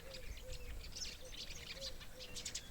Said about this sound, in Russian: опять воробьи